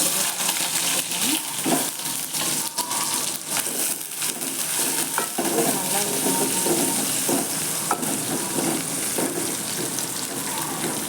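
Chopped onions frying in oil with cumin seeds for an idli manchurian snack, a steady close sizzle with stirring and scraping throughout, no talk.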